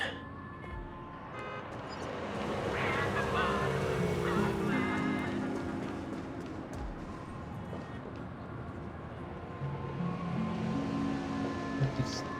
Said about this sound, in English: I heard a raven cawing in the distance.